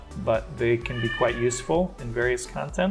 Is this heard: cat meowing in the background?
yes